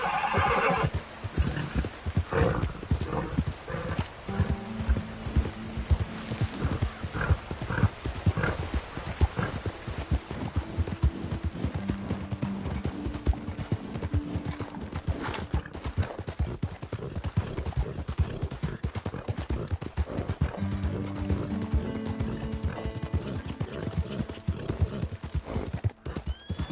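A horse gallops in Red Dead Redemption 2, with rapid continuous hoofbeats and several loud neighs and whinnies over game music and ambience.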